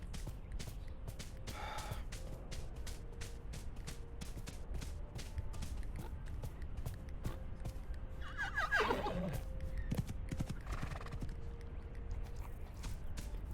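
Horses neighing in a survival video game, with a loud whinny near the middle and a fainter one soon after, over a steady bed of game ambience and clicking.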